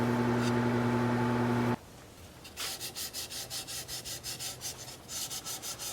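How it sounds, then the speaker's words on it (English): A steady wood-turning machine hum stops abruptly, followed by rhythmic, repeated rubbing strokes of sandpaper against an alder wood bowl, close and even in pace. "Ready for sanding."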